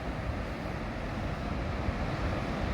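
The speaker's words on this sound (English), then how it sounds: "We got some big waves still coming in from that Pacific storm a week ago." Big ocean waves from a Pacific storm rolling in at a beach near a lighthouse, a continuous low rumbling roar of surf mixed with wind buffeting the microphone.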